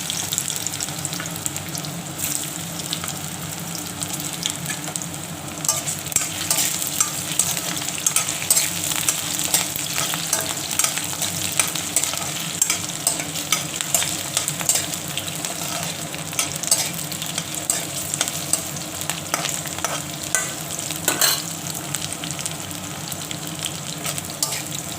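Potatoes and fresh green chillies fry in hot oil in a pan, a steady dense sizzle with occasional stirring scrapes running throughout, close and continuous with no talking.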